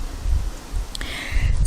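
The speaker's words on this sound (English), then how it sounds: "I didn't realize how windy it actually was till I got out here." Wind gusting outdoors, a steady rough rush buffeting the microphone with low rumbling surges and a brief faint whistle partway through, no talking.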